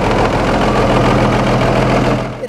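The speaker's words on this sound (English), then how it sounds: "A big V8 with a turbo and open exhaust didn't just run." International Harvester DV800 turbocharged V8 diesel running with an open exhaust, a loud, steady low rumble with a throaty roar, close up and unbroken before easing off at the very end.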